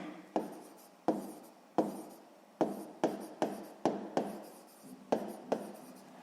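A pen scratches across paper as short handwritten entries are made, in about eleven crisp, close strokes with brief gaps between them.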